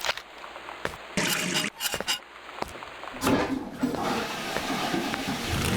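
Toilet flushing in the video game Gone Home, a rushing, gurgling water surge building and swirling steadily for several seconds after a few clicks and thuds.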